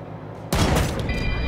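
A single sharp gunshot fired in the video game Wasteland 3, a sudden loud blast that jumps in after quiet background and rings on with a lingering roar.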